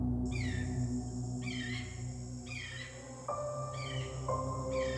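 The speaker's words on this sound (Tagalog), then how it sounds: "Hala, ibon ba yun? Ang ganda naman ng huni." Repeated short, high, swooping chirping calls recur at regular intervals, faint and slightly distant over a low steady hum, with a sustained tonal whistle joining midway.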